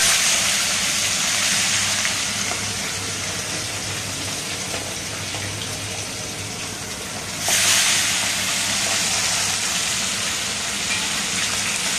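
Fish frying in smoking hot oil gives a strong, steady hiss and sizzle that fades slightly, then surges loudly again partway through, constant and close with no talk over it.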